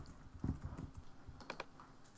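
A few quick, faint keystrokes on a computer keyboard as a password is entered at a sign-in prompt, soft clicks in an irregular burst with no voice.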